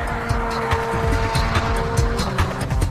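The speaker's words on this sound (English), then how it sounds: "Under the hood of this car is the latest in a long line of performance engines" A performance car engine drives at speed, loud and continuous with a steady roar and some rising revs, heard close.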